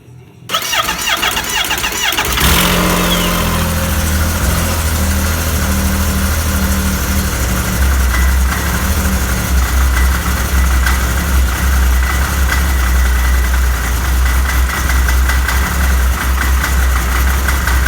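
A loud Yamaha four-stroke snowmobile engine in an Arctic Cat cranks and catches after a couple of seconds, then settles into a steady, rumbling idle with a rattling mechanical texture.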